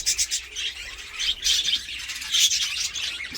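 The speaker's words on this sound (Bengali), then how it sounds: "দেখতেই পাচ্ছেন পাখিগুলো সব চিৎকার চেঁচামেচি করছে" Pet birds in a cage chirp, screech and squawk in repeated shrill bursts, fairly close and continuous, with no talking.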